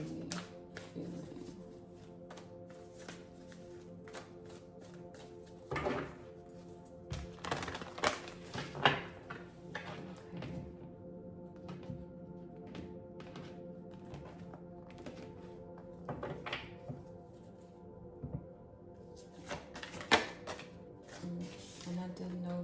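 Tarot cards are shuffled by hand in soft, uneven bursts of riffling and tapping, quiet and close against a low steady hum, with brief thunks as the deck is handled.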